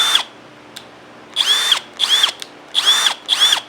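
A Hercules 20V brushless cordless drill is run in four short bursts after a light click or two. Each burst is a loud, high motor whine that ramps up and winds down, with brief quiet gaps between them.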